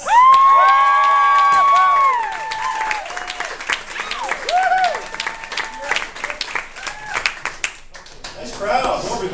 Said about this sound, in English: please give it up one time for Dave Margolis